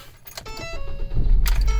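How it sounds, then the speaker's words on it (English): A Ford Focus engine cranks and catches after a jingle of keys, rising into a loud, close rumble by the end of the short burst, no talking. "I'm going to start the car, put my foot on the brake."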